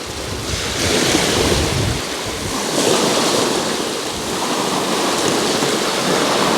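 Wind and surf on a beach at Poole Harbour, with a steady roar of breaking waves and gusty wind buffeting the microphone, rising and falling in waves throughout.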